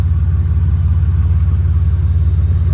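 A car engine idles steadily up close, a low, even rumble with a fast regular pulse and no voices.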